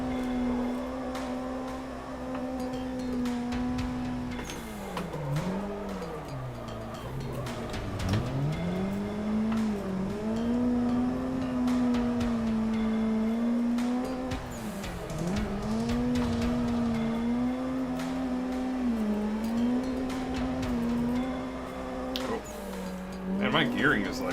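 Engine of a car lapping a circuit in Assetto Corsa, revving up and dropping through gear changes with a sustained drone. The revs climb and dip repeatedly, with brief tire squeal, and someone talks over it throughout.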